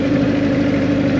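A Kawasaki GPZ 1100 motorcycle engine running steadily in fourth gear at under 2,000 RPM, a continuous low, even hum heard up close and alone, without speech.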